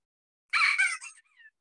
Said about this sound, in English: The book squeaks.